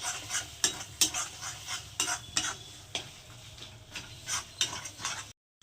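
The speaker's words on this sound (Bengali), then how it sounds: "এবার সেগুলোকে সব একসঙ্গে খুব ভালো করে একটু কষিয়ে নেব।" Spices fried down in oil in a pan for a chicken liver dish, a spoon or spatula scraping and clinking in repeated strokes over a low steady sizzle, close by and without voices.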